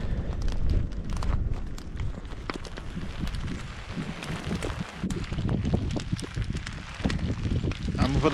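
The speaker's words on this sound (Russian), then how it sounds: "Костер зажгли." A campfire burning outdoors on a windy riverside evening during a long river trip, soft crackling and low rushing wind noise running steadily throughout, with people talking nearby.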